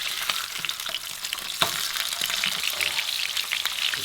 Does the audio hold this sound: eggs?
yes